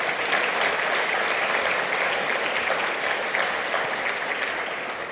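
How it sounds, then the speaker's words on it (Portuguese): Church congregation applauding during a sermon, a dense, steady roar of many hands clapping together that holds level throughout and fills the room, with no voices over it. "Dá para você aplaudir Jesus por isso?"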